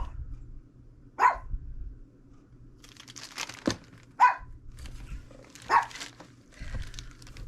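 Three sharp, excited barks from a dog indoors, spaced about 1.5 seconds apart and loud against a quiet room, with some paper or plastic crinkling between them.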